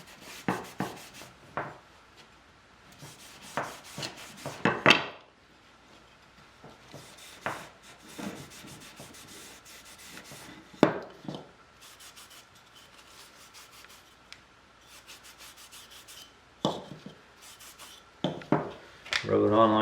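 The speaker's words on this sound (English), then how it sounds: "it's just a matter of rubbing the pre-stain on" Minwax pre-stain rubbed by hand onto a wood surface, heard as repeated scratchy, swishing rubbing strokes in uneven bursts with short pauses between them, close and fairly clear.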